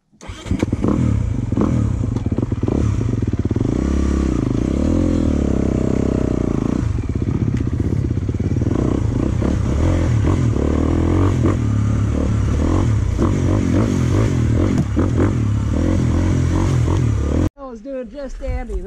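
A 2022 Honda CRF250R dirt bike engine revs loudly and close, rising and falling with throttle blips over a rough, clattery idle, with someone talking over it before a brief quieter moment at the end.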